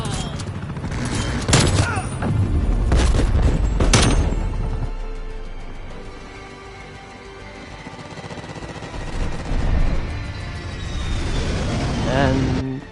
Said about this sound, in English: There's only a scene of the whole area exploding